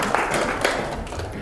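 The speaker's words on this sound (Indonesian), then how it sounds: "tepuk tangan buat teman-teman kalian" Students in a computer networking classroom applaud their classmates, a brief, blurred wash of clapping that stays fairly even and moderately loud throughout.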